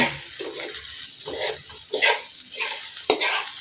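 Carrots being stirred into Filipino garlic fried rice (sinangag) in a hot pan: a light sizzle with a few sharp utensil scrapes and knocks, close by and moderately loud, no voices.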